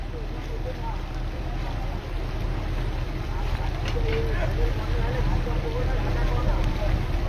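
Passenger ferry vessels running on the tidal route to Gangasagar on Mahalaya produce a steady low engine and water rumble with wind buffeting the microphone, while someone talks over it.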